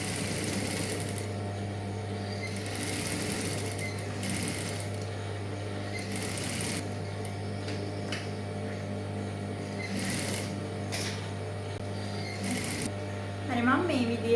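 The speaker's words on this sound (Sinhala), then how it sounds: "ඉතින් මම අඟල් කාලක විතර ප්‍රමාණයකින් කලිසමේ කකුලේ හැඩය මසා ගන්නවා." A sewing machine stitching the seam of a trouser leg, a continuous mechanical whir with a steady hum running through it, broken by short bursts and brief pauses as the fabric is guided.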